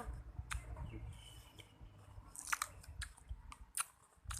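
Crunchy bites and chewing of a green Thai mango (mamuang khiao sawoei), close and alone, with a few sharp crisp bites standing out over steady mouth sounds, eaten outdoors at a school.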